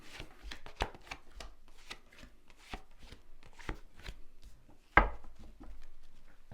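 Tarot cards are shuffled and laid out on a table, close crisp riffles and flicks in an uneven rhythm, then one sharp slap of a card set down, followed by softer rustling.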